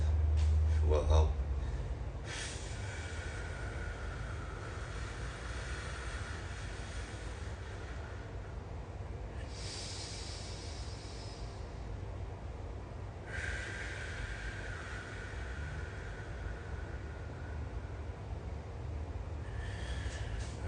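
Slow, audible Ujjayi breaths, long hissing inhales and exhales drawn through a constricted throat, close and soft, spaced several seconds apart over a low hum.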